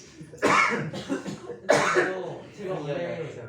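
Coughing mixed with voices: two harsh bursts stand out, one near the start and another about halfway through, both close and loud, with talk running between and after them.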